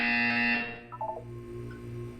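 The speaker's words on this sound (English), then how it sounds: "You will hear a buzzer." In the video game Portal 2, a harsh electronic buzzer blares loudly for about half a second, then cuts off, followed by a few short lower blips and a steady hum.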